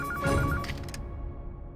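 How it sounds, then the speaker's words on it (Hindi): A telephone rings with a steady electronic tone in a domestic drama scene, loud at first and then cut off abruptly within a second, leaving low room noise. "गोपी बहू, तमे फोन उपाड़ो।"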